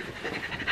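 Quick, rhythmic panting of dogs coming indoors, close and moderately loud, a short burst of rapid breaths.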